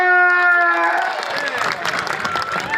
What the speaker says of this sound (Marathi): करा की टाळ्या, करा की टाळ्या